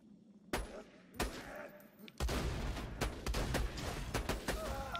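Sniper rifle fire in Borderlands 2, several loud sharp cracks spaced apart, then a denser stretch of gunfire and game action continuing to the end.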